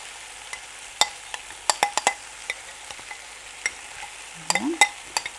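A spoon stirs chicken paprikash with sour cream and flour in a pan, making quiet, irregular clinks and scrapes against the metal over a soft, faint simmer, with no talking.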